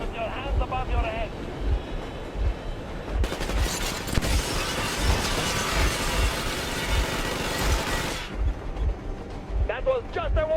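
A burst of warning gunfire in the game Metro Exodus: a dense, loud volley of rapid shots runs for several seconds over a low engine rumble, then breaks off.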